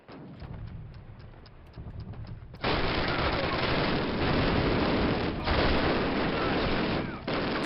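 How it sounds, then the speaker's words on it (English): A cannon fires in Call of Duty (2003) amid battle noise: dull thumps and scattered shots, then a sudden loud roaring blast that holds as a thick, dense rumble of gunfire and explosions to the end. "Cannon's about to go boom."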